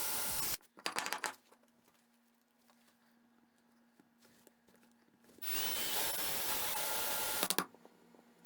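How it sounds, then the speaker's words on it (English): A drill bores holes in wood to rough out a mortise during a sofa-table-to-coffee-table rebuild, heard as a brief rattly burst early on and then a long, loud, steady whine of drilling that ends in a sharp stop. "So now I will just use a drill bit, drill a few holes, and then clean up with a chisel."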